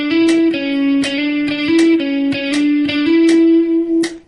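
An electric guitar is played with the picking and fretting hands out of sync, giving a quick run of single notes with uneven, smeared attacks. It sounds clear and close, with no talking.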